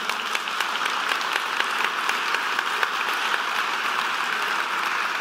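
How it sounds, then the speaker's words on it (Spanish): Steady applause from a church congregation during a Spanish-language sermon on prayer, a dense continuous patter of many hands clapping that holds at an even level throughout without voices. "Dale un aplauso a Dios."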